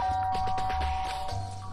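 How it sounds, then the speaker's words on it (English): A two-tone doorbell chime from the video game Danganronpa: Trigger Happy Havoc, a clear ringing note sustained over a soft low background hum, alone with no talk. "I press the doorbell."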